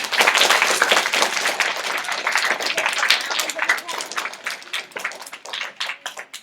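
Classroom of students giving a round of applause during a video call with a Paralympian, a brisk burst of many hands clapping that gradually thins out over several seconds.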